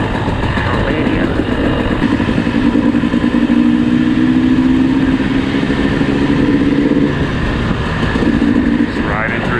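A dirt bike engine drones steadily while riding through a small Romanian town, a close, continuous mid-pitched hum with slight shifts in revs and wind noise, and a voice talking over it.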